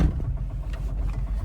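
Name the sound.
Ligier JS50 diesel engine running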